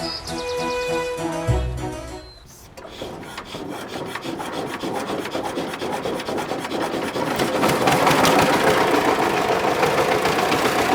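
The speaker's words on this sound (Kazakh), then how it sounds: "Қытайдың тракторы ма бұл?" A Chinese-made tractor engine idles on a road near Shelek village in Almaty region, a steady, loud rapid clatter that builds slightly over time after a brief tonal sound at the start.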